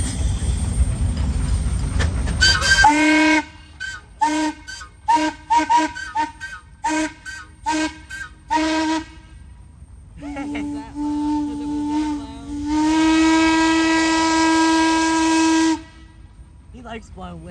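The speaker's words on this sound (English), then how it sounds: "I like steam whistles too" Steam whistle at a steam and gas engine association parade: after a hissing rush, a series of short rhythmic toots gives way to longer sustained whistle blasts, loud and close, with hiss between them.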